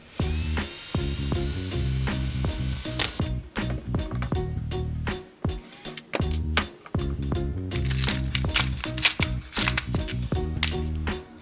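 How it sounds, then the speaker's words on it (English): Small holes drilled with a power drill for homemade fishing rod holders, a steady close whirring broken by short pauses and a brief dip midway before drilling resumes at full volume. "So what I'm going to do is drill some small holes and then put some small screws in"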